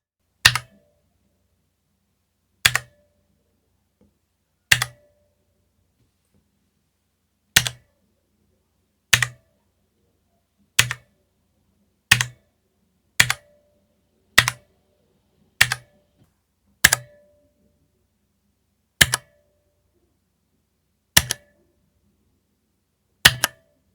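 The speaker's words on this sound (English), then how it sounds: "I can hear a strange echoing ping sound from the keycaps" Single keystrokes on a Spigen ArcPlay mechanical gaming keyboard, each a crisp isolated click with a faint ringing ping from the keycaps, spaced irregularly one to two seconds apart in otherwise silent surroundings.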